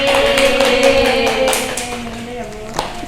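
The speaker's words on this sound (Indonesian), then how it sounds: "tepuk tangan buat semuanya" Students in a classroom give a round of applause, a fairly close, steady patter of clapping that thins out toward the end, with a tonal hum underneath.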